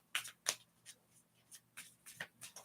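Small advice cards for a tarot reading being handled and shuffled, a few soft, quick papery flicks and slaps spaced irregularly, close and quiet with no talking.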